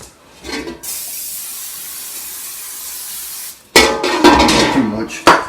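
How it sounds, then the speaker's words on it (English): A sustained hiss of aerosol cooking spray on a baking pan runs for about three seconds, followed by clattering of the metal pan being handled nearby. "what we need to do is spray our pan here"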